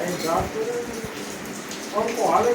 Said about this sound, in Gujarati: આ જો વરસાદ ચાલુ છે પાવરફુલ પડી રહ્યો છે